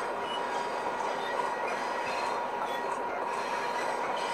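A fanmade Amtrak Zephyr train in a video game running at high speed, around 90 mph, with a steady loud rolling rumble of wheels on rails that holds without a break.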